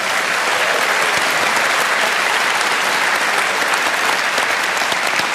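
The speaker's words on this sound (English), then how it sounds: "You can give yourselves a quick round of applause" A festival audience at a Q&A panel event for the Melbourne Writers Festival claps steadily and loudly for about five seconds, a dense unbroken wash of many hands with no talk over it.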